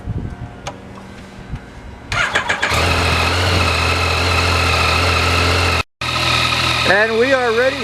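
A 2020 Yamaha MT-09 motorcycle engine starts, then settles into a loud, steady, close idle with a brief dropout, while voices talk over the engine.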